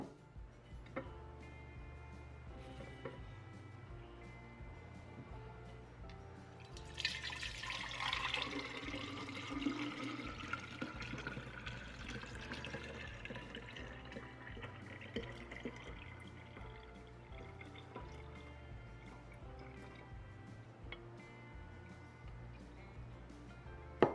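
Thin trickle and patter of homemade oat milk being double strained through a strainer into a casserole dish, quiet and close, with a steady pour rising for several seconds amid faint ticking drips.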